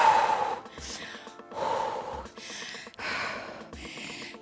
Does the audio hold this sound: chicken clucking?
no